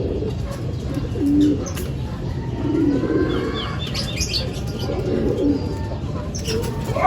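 Racing pigeons coo in soft repeated phrases after a derby flight, with scattered chirps and a flutter of wings close by, all steady and moderately loud with no talk.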